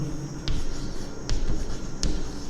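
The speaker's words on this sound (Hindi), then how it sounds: "यहाँ पे मैं लिखता हूँ" Pen strokes scratch across paper as a class 10 surface area and volume solution is written, with three sharper taps or stroke ends standing out over steady close scribbling.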